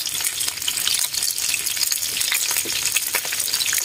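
Dried pangasius fish frying in a pan, a dense, steady crackle of hot oil with sharp popping spatters, close and continuous throughout with no voices.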